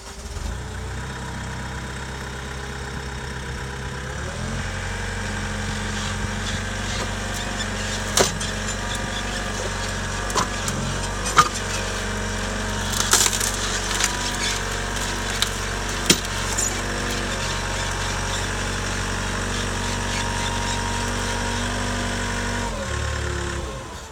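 An ASV 75HD compact track loader drives forward over wood, its engine holding a steady idle-like rumble throughout, with scattered knocks and cracks from the timber beneath the tracks; no talk.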